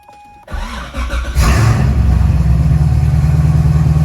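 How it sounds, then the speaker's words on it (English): A Corvette C6 Z06 engine cold start: it cranks over and catches, then roars up into a loud, rumbling high idle right up close, with no talking. "Cold start, cold start."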